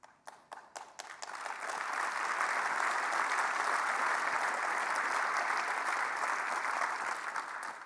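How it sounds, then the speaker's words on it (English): Sustained applause fills the Ontario legislature, a few scattered claps swelling into steady, broad clapping from many members that holds for several seconds before easing slightly. "I believe that was Caroline Mulroney who initiated that applause."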